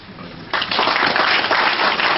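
A symposium audience breaks into dense applause about halfway through, loud and steady after a quieter opening moment.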